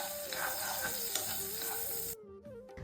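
Cashews and raisins fry in ghee with a bright, crackling sizzle and stirring scrapes in the pan, loud and close, before the hiss abruptly drops away near the end.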